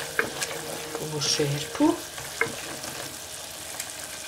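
Onion and flour fry in a pot of bean stew with a crackling sizzle, punctuated by close scrapes and clinks of stirring, while a voice speaks briefly.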